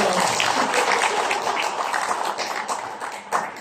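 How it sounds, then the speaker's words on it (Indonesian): Audience applause at an education department internet workshop session, a dense wash of many hands clapping together throughout, loud and even before fading slightly toward the end. "Boleh tepuk tangan dulu ya"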